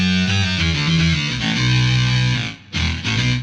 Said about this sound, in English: The ring mod that comes set up on the SY-200 is one of the coolest ring mod tones I have ever